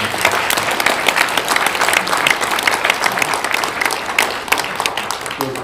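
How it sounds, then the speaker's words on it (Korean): A large seated audience at a commemorative panel event gives warm, sustained applause, a dense steady wash of clapping lasting several seconds with no speech over it. "뜨거운 박수 한번."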